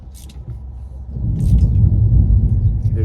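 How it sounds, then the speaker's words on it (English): Low, distant thunder rolls outdoors, a deep rumble that swells after the first second and holds steady, with faint higher crackles flickering briefly at the top. "Hear that thunder?"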